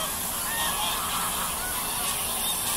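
Geese on a farm honk loudly and continuously at close range, with a dense, harsh chorus of calls throughout.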